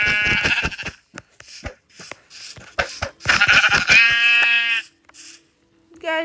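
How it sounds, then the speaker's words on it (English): Sheep in Minecraft bleating in several loud, close, wavering calls separated by short gaps. "Oh, there's a sheep."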